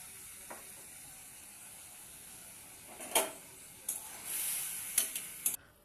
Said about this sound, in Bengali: মেথিটা লাল করার পরে এই মাখা আলু ভাজাগুলি দিয়ে দেবো